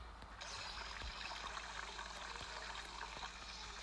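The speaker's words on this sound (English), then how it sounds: "What if we filled it with water?" In a video game, water steadily trickles and splashes into a bucket, a continuous soft gurgling stream heard close but quiet, with a few faint clicks underneath.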